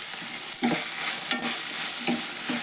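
Sprouted moth bean stir-fry with tomato frying in a pan, a continuous sizzle with repeated scraping stirs about every half second to second, close up with no voices.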